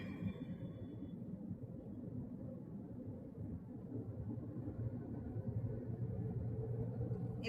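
A car engine hums in a low, steady rumble just after shifting into 4th gear at around 2000 rpm, cruising smoothly with no voices.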